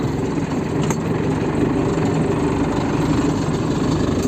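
A tractor engine idles nearby in rainy, muddy farm conditions, a loud, steady low rumble with constant vibration and no pauses.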